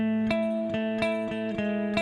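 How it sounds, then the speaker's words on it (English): Clean tone from a Sterling Majesty 2020 electric guitar on the middle pickup position: a few evenly spaced plucked notes over a held, ringing chord, close and clear with no voices. "Okay, then we're going to switch to the middle pickup position."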